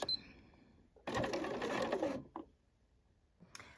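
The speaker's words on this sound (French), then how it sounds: "on va continuer à coudre la parmenture après avoir cousu les fameux 3 cm" A sewing machine stitches a dress facing in one short burst of about a second, a fast close mechanical whir, with quiet handling noises before and after.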